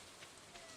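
Steady soft rain hiss from the farming game Stardew Valley, a quiet continuous patter with faint swells and no voice over it.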